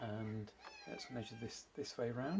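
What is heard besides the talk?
cat meowing in the background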